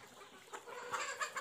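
A Kaveri chicken clucks in short bursts, faint at first and then louder and busier toward the end, with no voices.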